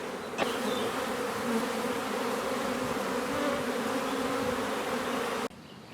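Dense, steady buzzing of a honeybee swarm near beehives, a loud continuous drone with layered wingbeat tones that holds evenly for several seconds before cutting off abruptly near the end.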